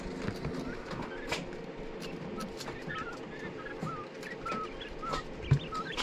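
Young Phoenix quail chicks about 12 to 13 days old, kept in a cage, give soft, scattered high chirps and tweets over a steady low background hum, fairly faint and close by.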